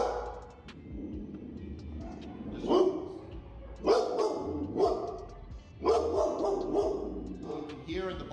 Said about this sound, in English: she offers that deep barking, that whoa, whoa, whoa, whoa, whoa